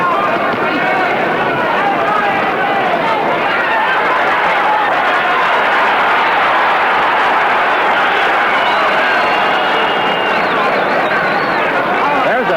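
Large crowd roaring and murmuring inside Madison Square Garden during a boxing fight, Emile Griffith against Benny Kid Paret, a dense steady wall of cheering and chatter that stays loud throughout.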